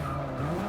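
Car braking hard into a corner in Forza Motorsport 6, a brief sustained tire squeal over steady engine drone, alone and close.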